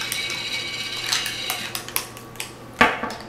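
A metal utensil stirs orange marmalade in a bowl, making a string of close, sharp clinks and scrapes at irregular intervals, ending in one louder knock; no voices.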